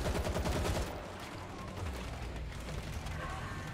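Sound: gunfire in video game World War Z

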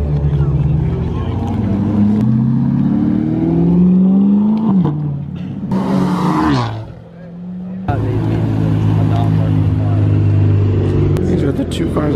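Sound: sports car driving on highway

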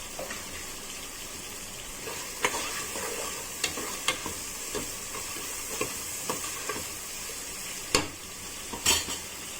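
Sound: onions frying in a pan

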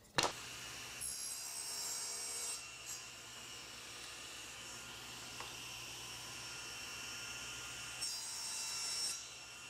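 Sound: cutting wood pieces to length

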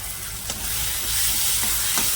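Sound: tomatoes and carrots sautéing in a pan for pasta

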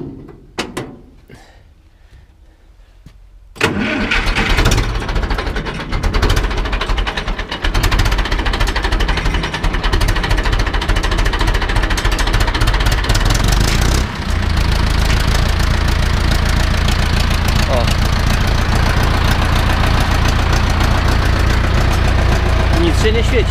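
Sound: Ursus C-360 tractor engine starting and idling

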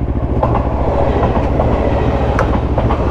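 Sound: capsule-style train running on rails in Japan

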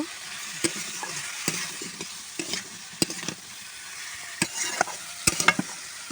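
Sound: sautéing vegetables in a pan with salt and turmeric

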